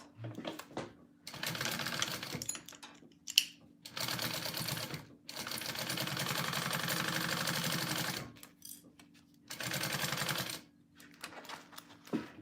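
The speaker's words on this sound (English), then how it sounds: "sew this part on at your 1/4 inch seam allowance" A sewing machine stitching a 1/4 inch seam on a mini backpack, running in loud steady buzzing bursts of several seconds separated by short pauses, close up, with no talk.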